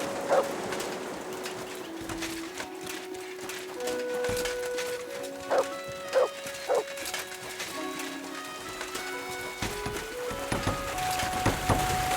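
In the video game Kingdom Come Deliverance 2, a dog gives a few short, separate barks over a quiet ambient scene with sustained tonal background sounds.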